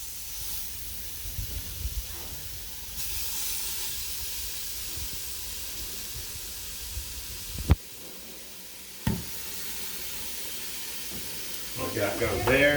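Meat for birria tacos sears in a very hot pan with a steady, fairly loud sizzle and hiss, broken by a couple of sharp clanks, as talking starts near the end.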